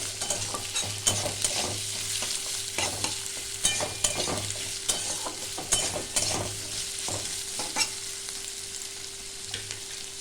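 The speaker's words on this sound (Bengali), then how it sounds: "আলুটা ভাজা হবে।" Cut potato and onion sizzle in oil in a pan while being stirred, bright crackling fry noise punctuated by repeated scraping spatula strokes at an irregular rhythm, fairly close and steady throughout.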